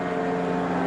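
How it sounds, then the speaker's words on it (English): NASCAR Sprint Cup stock car at Talladega qualifying, a steady droning engine roar with buffeting wind, loud and sustained for a brief moment with no talk. "That car has that kind of buffeting through the wind sound."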